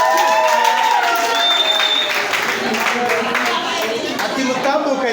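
Guests at a Rwandan wedding in Gisozi, Kigali, applaud in a steady wash of crowd clapping and cheering that stays dense and loud throughout, with chatter and voices mixed in.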